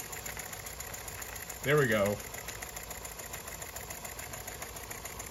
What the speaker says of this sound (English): I'm going to slow the engine down a little bit.